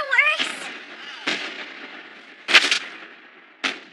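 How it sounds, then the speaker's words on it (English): Fireworks burst at a summer festival in Japan in several booming explosions spaced about a second apart, loud and crackling, with a short voice at the start. "Fireworks!"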